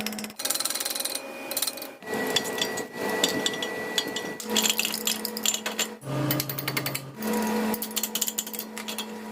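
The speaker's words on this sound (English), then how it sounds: "grab a punch and a hammer" Metal tapping and clinking from a hammer striking a punch to drive out a brake caliper pin on a 2015-or-later Toyota 4Runner, close up, in irregular bursts of sharp hits separated by brief pauses.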